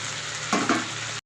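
Fried cauliflower and potato hit a hot pan of spices with a steady, loud sizzle, followed by two brief bursts of sharper crackle as the pieces land before the sound cuts off.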